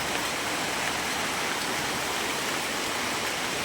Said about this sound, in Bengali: হঠাৎ করে এই যে চলে এলো হচ্ছে বৃষ্টি